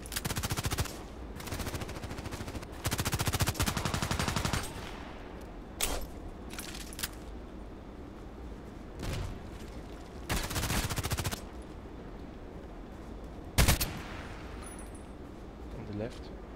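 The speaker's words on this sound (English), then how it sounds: "I need the rear machine gun" A rear machine gun in a video game fires in repeated short bursts with a rapid rattle, alongside game explosions and a player talking over the action.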